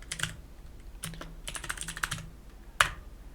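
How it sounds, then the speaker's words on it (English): A command is typed on a computer keyboard: irregular bursts of close, light key clicks, ending in one sharper keystroke, with no talking. "type this command"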